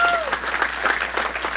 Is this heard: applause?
yes